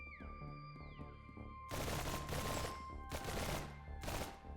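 Gunfire from a newly picked-up rifle in the hunting video game theHunter: sharp, loud shots about once a second, each leaving a brief rumbling tail, with no talking.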